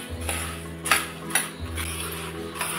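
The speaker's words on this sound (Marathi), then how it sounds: "आता हे आपण व्यवस्थित असं मिक्स करून घेऊया।" Poha chivda being mixed with powdered sugar and salt, with metal spoon clinks and scrapes against a steel pan and a dry rustle of the flakes, close and fairly loud.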